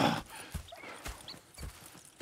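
Horse hooves clip-clop at a steady walking pace in Red Dead Redemption 2, four or five distinct thuds spaced about half a second apart, fairly quiet and alone.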